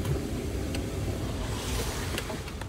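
Steady low rumble of a boat motor over water, with wind buffeting and splashing noise continuing throughout.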